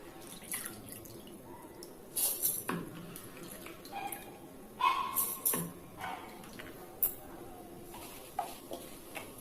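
Water sloshes and drips as soaked rice is rinsed in a bowl, with light clinks and splashes over a soft background hiss.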